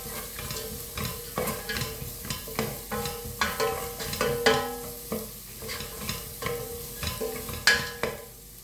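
Onions and mixed vegetables sizzle in a hot pan for chicken fried rice, with a utensil repeatedly stirring and scraping in an uneven rhythm over a continuous frying hiss, close and fairly loud, no talking.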